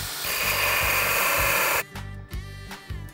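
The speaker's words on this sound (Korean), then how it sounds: "이제 이거를 그라인더 날 갖고 이 부분을 이렇게 일자로 갈아주시는 거예요" An electric drill fitted with a grinder disc cuts a straight slot into a stripped screw head, a loud high whine for under two seconds, then stops, followed by a few low knocks.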